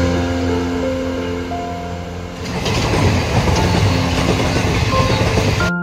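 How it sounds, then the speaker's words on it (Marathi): Ahmedabad Shatabdi Express train overtaking at Dungri railway station, a steady hum that gives way midway to a loud, close rush of rolling wheels and rattling carriages, then cuts off abruptly at the end. "12009 अहमदाबाद शताब्दी एक्सप्रेस आपल्याला डुंगरी रेल्वे स्टेशनला ओव्हरटेक करून पुढे निघून गेली"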